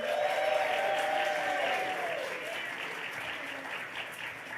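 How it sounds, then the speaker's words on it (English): Enthusiastic convention panel audience applause and cheering fills the space, loud at first and gradually easing off while still going. "one more round of applause for every other volunteer here"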